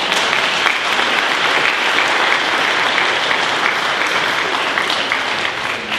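Audience applause fills a church during a holy Mass with the relics of Saints Thérèse of the Child Jesus, Louis and Zélie, a steady, dense wash of many hands clapping throughout, loud and sustained.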